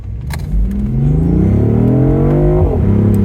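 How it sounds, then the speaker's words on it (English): A BMW i8 Roadster accelerates hard in first gear in sport mode. The engine note climbs loud and close in a smooth rising whine, then drops briefly at a shift point before building again. "A little acceleration run"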